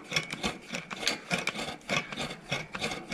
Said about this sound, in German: die gute Dame benutzt diesen Bremszug als Säge